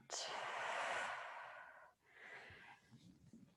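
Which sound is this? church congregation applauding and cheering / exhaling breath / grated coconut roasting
exhaling breath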